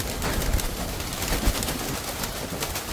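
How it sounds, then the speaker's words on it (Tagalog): Pigeons in a coop coo in low, soft pulses against a constant loud wash of noise, the calls brief and partly buried. "Kalapati natin, gutom na."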